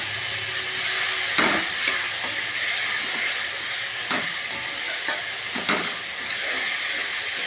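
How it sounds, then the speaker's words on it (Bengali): Spice paste with a little ground melon seed is stir-fried in a pan for a soybean curry. It gives a steady close sizzle with scattered scraping strokes of the spoon and no talk. "মশলাটা ভালো করে কষা হবে"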